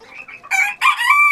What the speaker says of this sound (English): That's a silver campeen rooster.